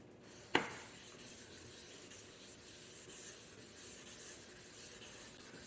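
A car headlight lens being wet-sanded by hand with 2000 grit sandpaper during restoration with a Philips kit: a steady, soft rubbing hiss that runs continuously after a brief sharp knock near the start.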